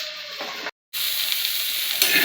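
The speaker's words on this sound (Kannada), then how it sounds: "ಈಗ ಸ್ವಲ್ಪ ಫ್ರೈ ಆಗತ್ತಕ್ಕ ಹುರಿಬೇಕು ನೋಡಿರಿ" Okra frying for a palya on a flat griddle pan, a bright continuous sizzle broken by a brief silent gap, then resuming with stirring scrapes.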